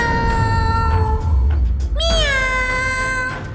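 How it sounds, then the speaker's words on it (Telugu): An animated cartoon cat gives two drawn-out, close meows over a background music bed, the second rising sharply then sliding down, with no talking. "క్యాట్ శబ్దం ఎక్కడి నుంచి వస్తోంది?"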